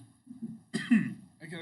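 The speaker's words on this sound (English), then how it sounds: "I gotta cough first." A man clears his throat and coughs once or twice, close to the microphone, with brief low vocal murmurs before and after.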